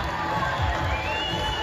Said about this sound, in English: would you give a big round of applause for our mascots this afternoon?